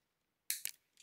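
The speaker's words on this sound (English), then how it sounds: "So now I'm going to cut this cable tie." A cable tie is snipped during a repair of the chopped wiring on a DRO glass scale: a sharp close snip followed by a second click, then two quieter snips about half a second later.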